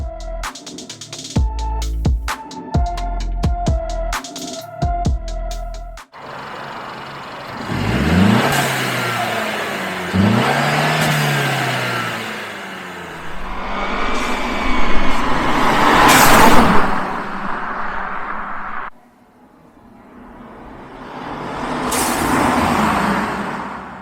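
A Mercedes C300 fitted with a blow-off valve and drop-in filter passes by outdoors, engine revving up loudly with rising tones, followed by further acceleration runs and hissing releases as it pulls away.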